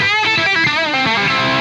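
An electric guitar played through a tube amp with a distortion pedal rings out loud and close, sustained gritty notes sliding and overlapping in a thick, saturated tone.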